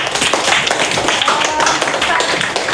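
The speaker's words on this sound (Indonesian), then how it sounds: "tepuk tangan untuk Nazwa." A burst of clapping from a group, dense and continuous for a few seconds, with some voices mixed in.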